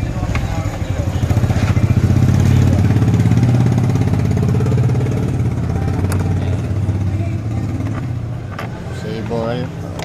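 A Honda Click 125 scooter idles close by with a steady low engine drone that swells and then eases, its idle hunting unevenly, while a short metallic clink breaks in near the end.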